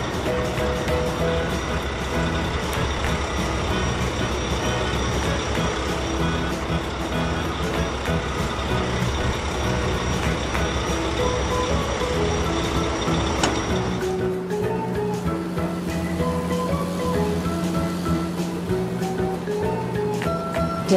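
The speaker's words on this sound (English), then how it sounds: "Dump truck." A dump truck rumbles steadily with a dense, broadband engine drone that stays loud throughout, thinning out to a lower idle-like tone for the last several seconds.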